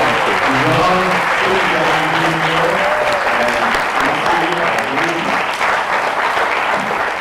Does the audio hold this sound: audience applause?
yes